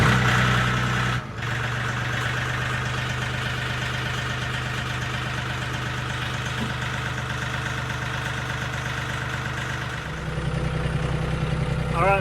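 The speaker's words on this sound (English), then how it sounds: "we'll be able to crank this tractor up" A farm tractor's engine catches and settles into a steady, loud, rumbling idle close by, running evenly with no voices.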